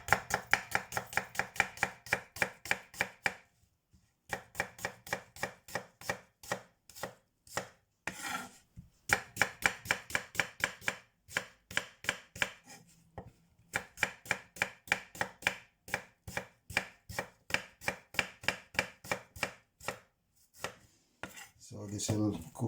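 Onions sliced into juliennes with a knife on a cutting board for chicken biryani: rapid, even, close knocks in long runs, separated by brief pauses.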